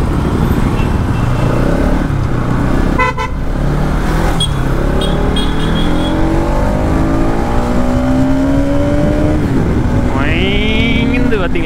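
A Bajaj Pulsar NS200 motorcycle with a newly fitted clutch cable revs under broad road noise, its engine tone climbing steadily and then leaping sharply near the end, loud and close.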